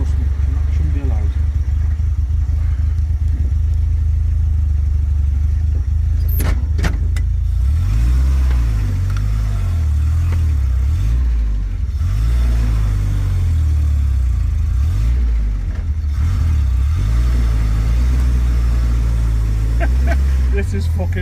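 A 1949 Sunbeam Talbot 90 under restoration runs and is driven. Its engine rumbles close by, rising and falling through repeated revs and gear changes over a steady low drone, while people talk.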